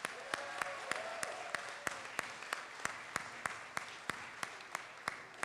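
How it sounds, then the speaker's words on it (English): Applause at the close of a congressional district debate comes through faint and distant. Soft crowd clapping runs under a series of sharp, evenly spaced ticks about every half second. "Let's give them a round of applause"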